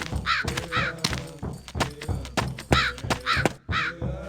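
Loud, near cawing from a crow in a video game: a rapid run of raspy calls with a few dull thunks mixed in and a brief gap near the end.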